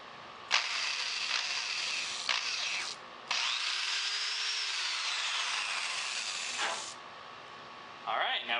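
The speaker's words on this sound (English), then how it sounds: "we'll drill the next hole." A power drill with a small bit bores holes into the poles of a truck-mounted flagpole system, two steady whirring runs of a few seconds each, near and fairly quiet, with brief pauses and no talk during drilling.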